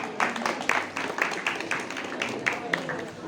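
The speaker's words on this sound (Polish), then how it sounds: "Ogromne brawa." Applause breaks out at a school Valentine's song contest, with scattered claps rising and falling under people talking nearby.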